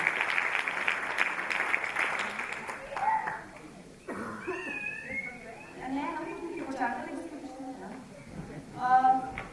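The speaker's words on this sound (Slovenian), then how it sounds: "tako da je en aplavz za našo modno oblikovalko" A dance-group audience claps for the group's fashion designer for about three seconds, then the applause fades out and people talk, with a brief burst of laughter near the end.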